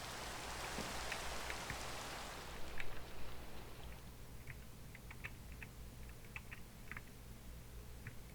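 Steady Minecraft rain hisses all around, with a louder burst early on, then thins to scattered drip-like taps and light clicking.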